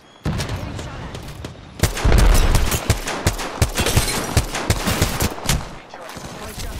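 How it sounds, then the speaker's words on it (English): Rapid bursts of gunfire from the video game Apex Legends crackle in loud, irregular volleys, with heavier booming hits in the middle and sharp single shots throughout. "I am taking fire, friends."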